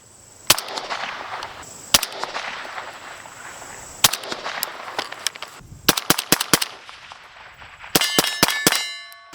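Several sharp gunshots from a rifle with a Resilient Suppressors Stacy's Mom K suppressor ring out at irregular intervals, each a brief metallic crack with a short ringing tail, ending in a quicker cluster of shots.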